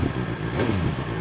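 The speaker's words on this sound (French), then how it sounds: "Écoute le pot." A BMW S1000 XR motorcycle engine idles close by with a rough, popping, crackling exhaust rumble, loud and continuous.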